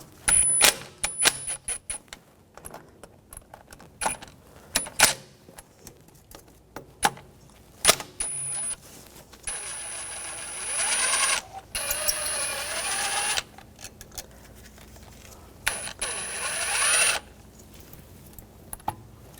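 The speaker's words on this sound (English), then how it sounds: "Using a Phillips head screwdriver, take these screws out." Phillips screwdriver backing out screws from the idle air control valve on a 1995-2004 Toyota Tacoma: scattered close metallic clicks and scrapes, with several sustained bursts of turning and rattling between quiet pauses.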